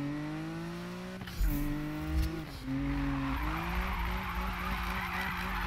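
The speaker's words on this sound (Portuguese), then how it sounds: "o ronco desse carro tá muito bonito." A car engine in the Need for Speed drag-racing video game roars loudly and up close, its revs climbing and dropping through gear shifts, with bursts of tire skidding and no talk.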